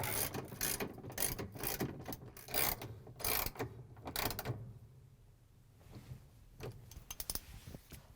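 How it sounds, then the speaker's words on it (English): A 3/8-inch socket ratchet with an extension drives in bolts on a GE washing machine transmission, giving rapid bursts of close clicking that pause, then resume as a few scattered clicks. "grab the 3/8" socket with the ratchet and the extension again, put in the bolts"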